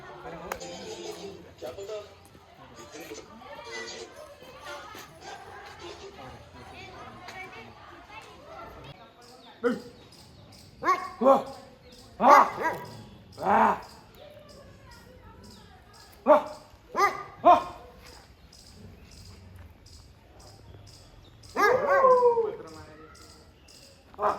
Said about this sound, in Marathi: भूक्याचा आवाज तर आपल्याला टाकायचा